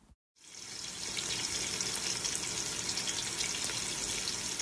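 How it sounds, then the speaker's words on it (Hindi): Sliced onions sizzle in hot oil in a pan, a steady loud crackling hiss that starts abruptly and keeps going without any talking. "तेल में प्याज़ों को अच्छी तरह से हम फ्राई कर लेते हैं"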